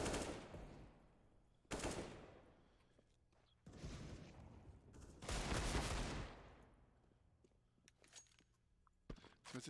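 Pistol fire in a competitive multiplayer video game match comes as several sharp bursts of rapid shots with gaps between them. The shots are loud against a quiet background.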